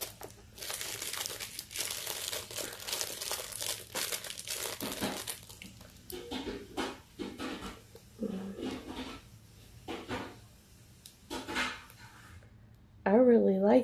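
Plastic packaging crinkles and rustles loudly as it is handled and pulled open, with irregular crackling bursts and a brief voice near the end.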